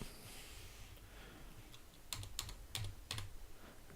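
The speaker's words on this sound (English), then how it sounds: "type in Sam, hit return, and in that one I'm going to type in John, hit return, and that one type in Sue" Short bursts of typing on a computer keyboard while entering names into a spreadsheet: a few quick clustered keystrokes, faint and close, over a low background hiss with no talking.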